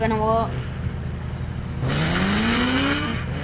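A motorbike engine in GTA 5 revs hard with a steadily rising pitch, loud and close, after a brief voice and a shorter engine burst at the start.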